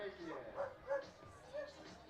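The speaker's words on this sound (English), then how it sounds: "you are hearing dogs barking" Dogs bark in short, scattered yips at a minor league baseball game between the Missoula PaddleHeads and Idaho Falls Chukars, heard faintly beneath an announcer talking.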